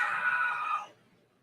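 A single loud, sustained scream from one person, strong and steady for under a second before cutting off into near silence.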